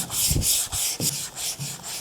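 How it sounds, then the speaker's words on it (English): A sanding block is rubbed across primer guide coat on a car body panel in steady back-and-forth strokes, each one a dry, close, rasping sweep with brief pauses between them. "We're not trying to rub out a hard edge of primer."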